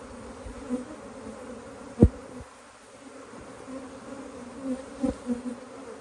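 Honey bees hum in a steady dense drone from an open beehive, close and continuous, with a few soft knocks and handling bumps over the buzz.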